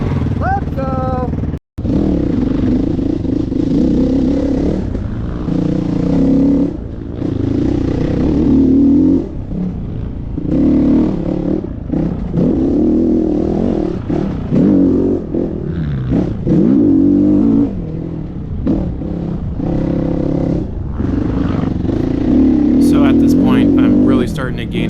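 A 2021.5 GPX FSE450R Chinese 450cc dirt bike being ridden, its engine droning and revving up and down in repeated surges with one brief cut near the start, a rider's voice talking over it throughout.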